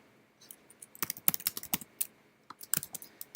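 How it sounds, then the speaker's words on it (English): Keystrokes clatter on a computer keyboard as code is typed in Unity, coming in quick irregular bursts with a short pause near the middle, close and fairly crisp with no voice over them. "Let's type in else if"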